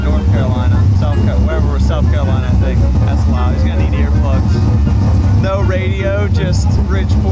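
A loud bridgeport-ported Mazda RX-7 rotary engine heard from inside the car, with a constant heavy, resonant drone and people talking over it.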